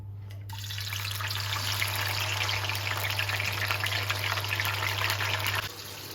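Tomatoes drop into a pan of frying eggplant, producing a steady close sizzle that holds for several seconds and then fades, alongside a constant low hum.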